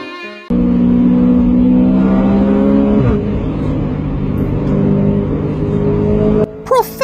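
A car engine drones steadily with a couple of shifts in pitch in a voice-acted Professor Layton scene, loud and close, with a brief squeal near the end.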